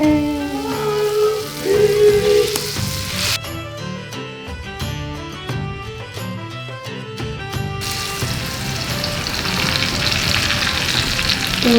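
Puff paste pea pods fry in hot fat in an 18th-century style kitchen, sending out a loud, close, crackling sizzle that runs steadily throughout, with no talking over it.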